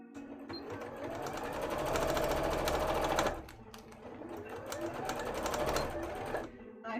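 A sewing machine stitches a cosplay tail in stop-start runs: a fast, rhythmic mechanical whirr that builds for a few seconds, halts briefly, then starts again, close and steady.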